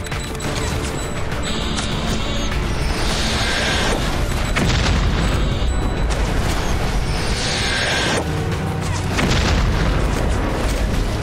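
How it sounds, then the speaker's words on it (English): Singularity Bombs tearing apart a boardwalk in the video game Red Faction: Guerrilla, heavy rumbling booms and crashing debris in two big waves over a dense, loud roar. "With just two Singularity Bombs, I can take out this entire boardwalk and cut off their lanes of pursuit."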